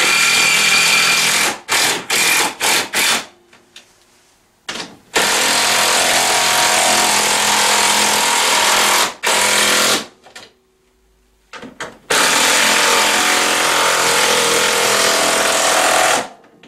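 A power tool tightening the three rear rack bolts on a Tao Tao CY150A scooter, running in loud, close whirring bursts of a few seconds each, separated by short pauses and quick stuttering pulses.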